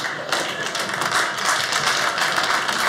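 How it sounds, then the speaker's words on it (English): Stand-up comedy audience clapping, a dense, continuous patter of many hands, moderately loud and sustained across the whole stretch. "I love the clapping."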